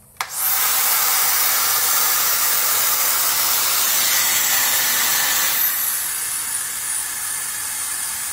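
A hair dryer blows on wet hair at a medium power setting, a loud steady whoosh switching on abruptly, running strong and then easing slightly near the end, with no talking.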